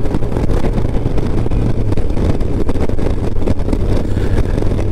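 A BMW K1200LT motorcycle rides along with a steady, dense engine drone and heavy wind rumble, loud and continuous throughout with no speech.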